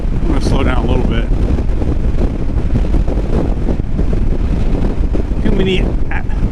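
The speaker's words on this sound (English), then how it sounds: "the wind is so strong, it's pushing me off the road" Strong wind buffets the microphone during a dirt ride on a Kawasaki KLR650 motorcycle, a constant loud roaring rush throughout, with a voice speaking briefly over it.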